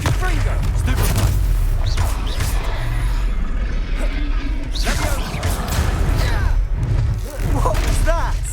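Spell-combat explosions in the video game Hogwarts Legacy: dense, loud bursts of booms, thuds and crashes running nearly continuously, layered with game music and a voice calling out spell names.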